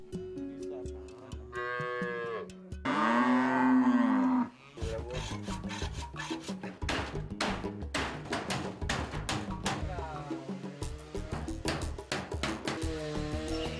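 Cows on a dairy farm: several loud, drawn-out moos, including one long close call, mixed with rubbing and scraping sounds between the calls.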